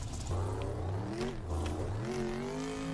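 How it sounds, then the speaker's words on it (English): A monster truck's engine in a racing video game revs hard and continuously, its pitch rising and falling through repeated throttle blips, loud and close with no voices over it. "I was hearing the engine, the revving sounds for both of them."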